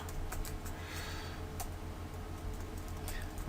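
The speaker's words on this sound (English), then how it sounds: "I'm going to type in hello world." Quick, light clicks of computer-keyboard typing tap out a short phrase in steady bursts, faint and close, over a constant low electrical hum with no voices.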